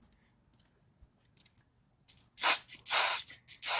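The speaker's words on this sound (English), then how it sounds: "So by being able to squirt the carb cleaner through the top of the plug" Carb cleaner sprayed through the carburetor jet of a Briggs & Stratton Craftsman lawn mower, heard as a few faint clicks followed by several loud, close hissing spray bursts in quick succession, with no talking.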